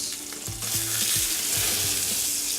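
Brined pork loin searing in a hot pan, a dense continuous sizzle up close with a few low thuds and scrapes as the meat shifts, no voices.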